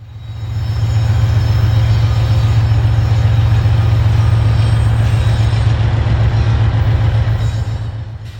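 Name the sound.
freight trains at Inman Yard, Atlanta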